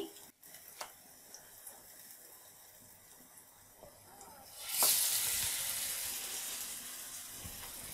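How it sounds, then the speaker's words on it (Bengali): Batter-dipped bread slice laid into a frying pan: after quiet moments with a few small clicks, a sudden loud burst of sizzling erupts and carries on as a bright, continuous hiss. "এভাবে একটা একটা পাউরুটি স্লাইস নিব ব্যাটারের মধ্যে চুবাবো তারপর দিয়ে দেব এই ফ্রাই প্যানের মধ্যে"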